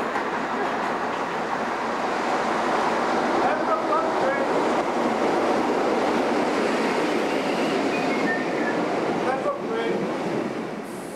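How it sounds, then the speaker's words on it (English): A British Rail IC-125 high-speed train with Class 43 power cars rumbles and roars loudly and continuously as it arrives at and departs from Llanelli station, with brief squeals over the steady noise. "And we'll view an IC-125 train arriving and departing at Llanelli."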